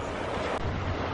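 Rough lake waves slapping around a kayak, a steady broadband wash with wind buffeting the microphone, fairly close and moderate in level.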